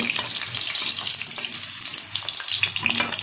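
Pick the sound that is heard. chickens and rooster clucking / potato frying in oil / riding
potato frying in oil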